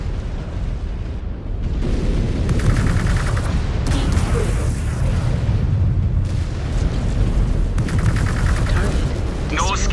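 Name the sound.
mech weapons firing in video game Mechwarrior 5: Clans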